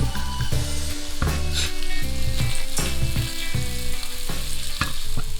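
Roughly chopped garlic cloves sizzle loudly in a hot pan for a chickpea curry, with a continuous crackling fry broken by several sharp stirring scrapes and clinks of the utensil against the pan.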